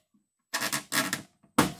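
Plastic door trim clips on a 1997 Land Rover Discovery being pried loose from a door panel, giving a few short, sharp cracking pops and scraping rattles close by, separated by brief silences.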